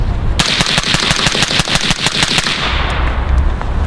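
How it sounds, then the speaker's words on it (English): A suppressed AR-15 rifle fires a rapid string of about fourteen evenly spaced shots, loud and close, emptying a full magazine before the firing stops abruptly into outdoor background hiss. "I'd like you to go ahead and dump that entire mag"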